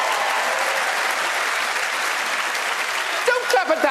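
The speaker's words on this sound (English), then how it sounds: "Don't clap at that, Tess Daly." Loud audience applause fills a televised awards show hall, a steady dense clatter of clapping with a few cheers rising near the end.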